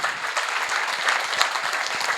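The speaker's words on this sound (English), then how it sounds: "A big round of applause for all the champions sitting here." Applause from the audience at a student get-together, a busy patter of many hands clapping at a moderate, even level throughout, with no voices rising above it.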